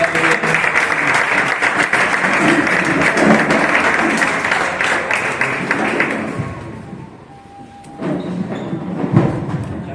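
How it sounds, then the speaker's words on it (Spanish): Sustained audience applause fills a hall at a book presentation, steady dense clapping for about six seconds, then fading briefly before a second, smaller burst of clapping resumes. "demos la bienvenida a Laureano y un fuerte aplauso"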